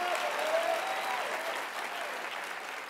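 A large audience claps steadily at a speaking event, dense even applause filling the whole stretch without a break, moderately loud and slowly tapering.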